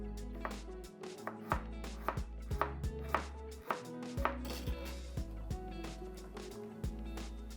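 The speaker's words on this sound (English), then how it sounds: "Slice 2 cloves of garlic and 1 piece of peeled ginger." Garlic cloves and peeled ginger sliced with a knife on a cutting board, a string of crisp, close knocks in an uneven rhythm, with no voice over them.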